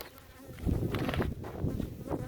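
Honey bees buzz at a beehive during a queen check after the honey harvest, a dense, steady swarm drone filling the whole stretch with no talk.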